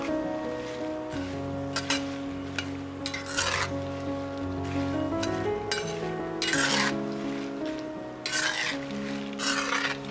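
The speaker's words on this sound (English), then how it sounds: "On medium heat, add the chilies to some vegetable oil. We'll fry this until the chilies have deepened in color and become crispy and brittle." Dried chilies frying over medium heat in vegetable oil for Thai chili crisp, a steady low sizzle with repeated scraping and stirring clinks of a utensil against the pan, close and continuous with no talk.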